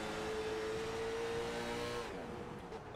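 A late model stock car in the iRacing sim, its engine cut off, gives a steady loud droning roar with a tonal whine that holds, then fades and shifts after about two seconds as the motor dies away.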